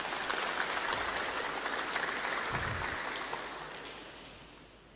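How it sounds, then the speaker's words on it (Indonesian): An audience at a West Java provincial government gathering applauds, a dense, steady wash of many hands clapping that carries on evenly and then fades out toward the end, heard from within the room with no talk. "Tepuk tangan dong untuk Jawa Barat."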